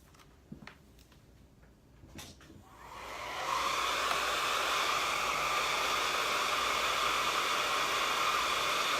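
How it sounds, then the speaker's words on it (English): A handheld hair dryer switches on after a few quiet seconds of small knocks and then blows steadily and loudly, drying a freshly applied layer of water-soluble paste. "now I'm going to dry this area and then I'll apply the next one"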